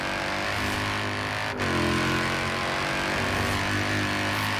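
Sustained engine drone from a Mercedes SLS police car in Forza Horizon 4, loud and close, with a brief dip and rise in revs partway through and no voices.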